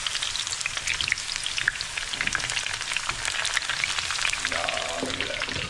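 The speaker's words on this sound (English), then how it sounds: "We'll just fry half of these now." Eggplant pieces frying in oil heated to 350 degrees, a steady dense sizzle and crackle running throughout, close and fairly loud, with a brief tonal sound near the end.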